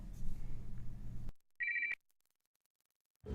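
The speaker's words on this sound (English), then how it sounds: "And I'm getting a phone call." A telephone ringing in The Wolf Among Us video game: one short, clear electronic ring burst between silent gaps, loud and alone.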